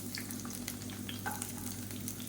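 Small onions and crushed garlic sauté in hot oil for a Tamil coriander leaf thokku, a faint, continuous sizzle with light stirring clicks and no talk.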